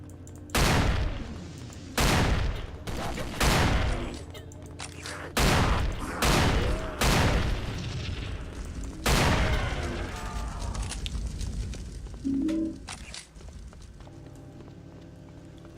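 Heavy bursts of shotgun and sentry-gun fire boom through a zombie-wave fight in the Behead the Undead mod, about nine loud, close volleys in quick succession, then fading into quieter game ambience.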